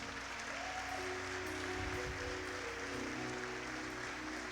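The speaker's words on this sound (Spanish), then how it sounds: "Vamos a darle un fuerte aplauso al Señor." A church congregation applauds the Lord, a faint, even wash of clapping from a distance, with a steady hum and some low tones underneath.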